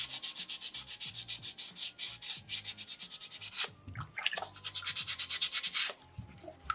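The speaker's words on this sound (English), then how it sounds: "I'm going to sand 2 spots simultaneously" A soapstone loon carving is sanded by hand, working the chest and the area beneath the beak. Steady, close rasping strokes repeat in a quick rhythm, pause briefly midway, then resume.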